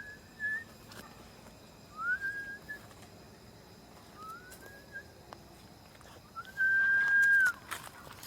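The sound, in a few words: whistling sound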